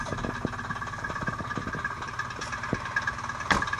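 A 2019 Microcar Dué Premium microcar idling just after starting, a small engine putting out a steady, fast, even chugging pulse at close range with a few brief clanks over it and no talk.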